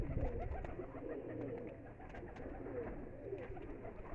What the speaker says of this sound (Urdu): یہ جی انسان ٹیڈی کبوتر ہے.